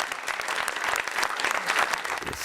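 An audience applauds warmly at a maritime-themed awards evening in Paris, a dense, continuous wash of clapping from a crowd in a hall.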